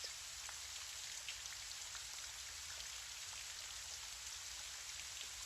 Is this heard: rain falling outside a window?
yes